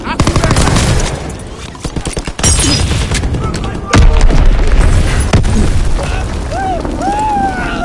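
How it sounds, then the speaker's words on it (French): Enemy bomb blasts and heavy gunfire in the Rainbow Six video game, loud rumbling booms with a sharp impact near the middle, followed by whistling tones and battle noise, with voices calling out over the chaos. "Bombe ennemie larguée."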